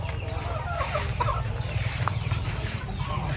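Free-ranging backyard chickens outside a Filipino poultry house cluck in scattered bursts over a steady low hum, moderately close and continuous.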